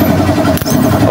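A motorcycle starter motor spins after a carbon brush replacement, giving a brief steady whirring hum with a short dip partway through.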